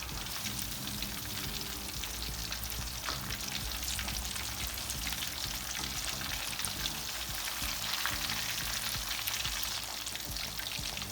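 Fish fries in a pan with a continuous dense sizzle and crackle, steady and close throughout, with no talking.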